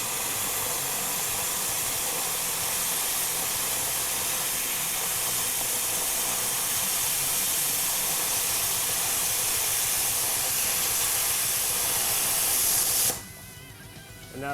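Plasma cutter slicing through 3/16 inch aluminum, a loud, steady broadband hiss like rushing air that holds evenly for about thirteen seconds, then cuts off abruptly.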